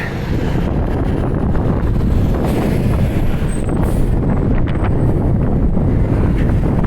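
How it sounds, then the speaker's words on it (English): Strong wind roaring and buffeting the microphone while walking into it near Cobequid Bus Terminal, a loud, constant rush of noise with no voices. "I'm walking right into the wind"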